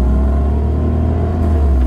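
A Jeep Grand Wagoneer's 6.4-liter V8 Hemi engine rumbles close and loud with a deep, steady low-end growl, heard alone without talk.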